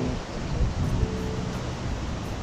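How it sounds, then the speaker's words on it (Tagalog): Ocean waves at Mahon Pool, Maroubra, Sydney, a steady broad rush of surf with wind buffeting the microphone, continuous and fairly close with no voices. "Nakikita mo yung mga alon, mga waves, something."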